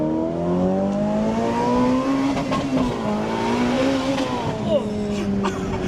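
Engine of a fast car revving and pulling hard through gears, a high racing-style whine rising and shifting steadily and close, with people talking over it throughout.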